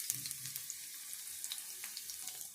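Mustard seeds, cumin and crushed garlic crackle and sizzle in hot oil as a curry tempering begins, a steady close hiss with small pops throughout.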